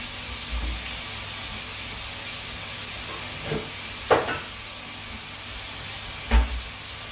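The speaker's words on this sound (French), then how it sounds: "pendant que les poivrons vont cuire tout doucement" A steady, soft sizzle of bell peppers frying slowly in a pan, with a few clinks and bumps of utensils now and then; no one speaks.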